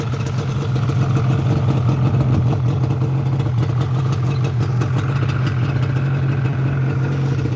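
A two-stroke engine fitted with factory and aftermarket expansion chambers idles steadily with a low, throbbing hum and light clatter, loud and close, running continuously with no talk.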